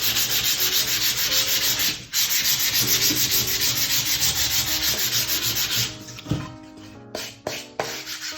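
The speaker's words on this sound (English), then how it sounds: "use this sandpaper and just sand it a bit to create nice smooth" Sandpaper rubs over a painted wooden craft box in fast, even back-and-forth strokes, close and continuous, pausing briefly midway before a few slower, uneven passes and light handling knocks at the end.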